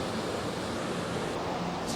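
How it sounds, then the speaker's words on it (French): A small waterfall in Abisko National Park rushes steadily, a dense, even hiss of falling water that stays close and constant with no voices over it. "je t'avais dit qu'il y avait une petite cascade"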